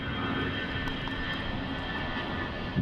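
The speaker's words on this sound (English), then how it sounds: "And you do get the planes overhead," Fixed-wing aircraft flying overhead near LaGuardia Airport above an outdoor pickleball championship court in Flushing Meadows, heard as a steady, loud broadband engine roar filling the whole stretch without a break.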